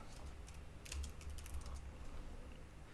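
A computer keyboard types a label onto a forex chart: a short, quiet cluster of close key clicks over a faint low hum, with no talk.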